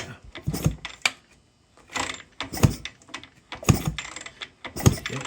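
A 1973 Yamaha CT3 motorcycle is kicked over about five times in close succession, each kick a sharp mechanical clunk and rattle of the kick-start lever and engine internals with brief pauses between.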